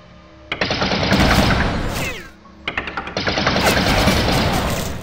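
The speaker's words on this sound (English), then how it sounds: "This one is a rapid fire bot." A rapid-fire robot in the Droid Assault video game shoots in fast bursts. Two loud stretches of dense, crackling rapid shots are split by a short pause, with sweeping electronic tones mixed in.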